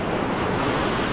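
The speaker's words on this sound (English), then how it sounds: "you got waves crashing right under your feet" Ocean surf crashes against the base of a limestone cliff in Bali, heard as a loud, continuous roar of breaking water with wind noise, close by and with no voices.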